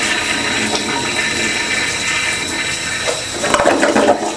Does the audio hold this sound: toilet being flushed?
yes